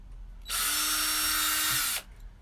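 A power screwdriver whirs steadily for about a second and a half, loud and close, loosening a neck screw on a 1996 Fender Kurt Cobain Jag-Stang guitar, with quiet room tone before and after.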